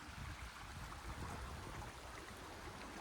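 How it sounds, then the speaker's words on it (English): Water from a forest waterfall stream rushes under a road, a constant broadband rushing wash heard at low level with no voices. "The waterfall obviously passes under this road and down to here."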